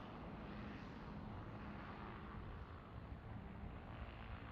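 Steady broadband roar of a Pilatus PC-12 turboprop aircraft at an airfield, constant and moderately distant throughout.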